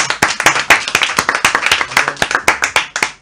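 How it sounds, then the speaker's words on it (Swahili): Audience hands clap sharply and loudly at a Vivo V23e phone launch event, a dense burst of crisp claps in an uneven rhythm that carries on for several seconds. "Jamani makofi kwa Vivo."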